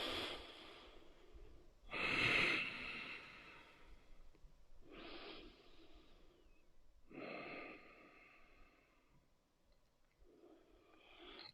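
Slow, deep breathing during a yoga class: four or five long airy breaths spaced a couple of seconds apart, the second one strongest, close and soft with no talk over them.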